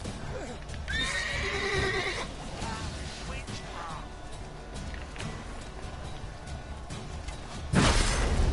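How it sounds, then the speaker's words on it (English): Horse in the video game The Witcher 3 gives a loud neigh and snorts over clip-clopping hooves, with game ambience and a sudden whoosh near the end, while a person talks. "Get off the horse."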